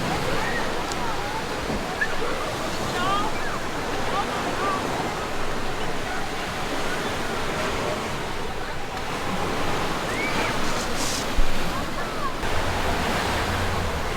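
Ocean surf washes continuously onto the beach at La Jolla, California, a steady, dense roar of breaking waves mixed with some wind buffeting on the microphone, with no break throughout.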